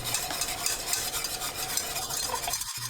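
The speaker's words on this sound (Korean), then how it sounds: "끓기 시작하면 찹쌀 푼물을 넣으면서 뭉치지 않게 골고루 섞어줍니다." Glutinous rice paste is whisked into boiling broth over high heat, a steady, close wet stirring and swishing that runs without pause, with no voices.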